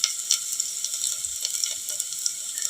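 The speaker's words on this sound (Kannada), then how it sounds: "ಈಗ ನಾನು ಶುಂಠಿ ಬೆಳ್ಳುಳ್ಳಿ ಪೇಸ್ಟ್ನ ಹಾಕ್ಕೊಳಕತ್ತೀನಿ" Ginger garlic paste sizzles steadily in a hot frying pan, a close, continuous hiss with small crackling pops throughout and no talking.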